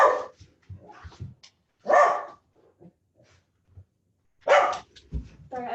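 During a yoga session, a dog barks in three separate loud bursts, with softer whimpers and small yips in the quiet gaps between them.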